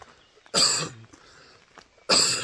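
Two sharp, loud coughs about one and a half seconds apart, separated by quiet breathing, with no talking.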